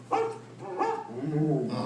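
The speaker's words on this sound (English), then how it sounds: "Don't worry, Rover. She didn't mean real dogs." A dog barks a few times in Disney's Carousel of Progress animatronic show at Magic Kingdom, with short bark-like yips and a whimper close by over a low hum.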